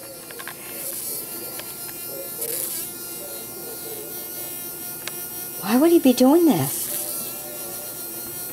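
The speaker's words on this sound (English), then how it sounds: "Came in the kitchen and I could hear a buzz noise." A dying housefly lies on its back and spins in a kitchen, giving a faint intermittent buzz that swells into a louder wavering burst near the end, with a person talking quietly over it.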